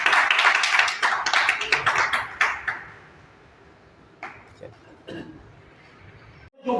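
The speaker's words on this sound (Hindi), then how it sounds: "ताली बजा दो भाई एक बार," A crowd at a Hindi religious sermon bursts into clapping that dies away after a few seconds, followed by a few scattered taps and a quiet hall.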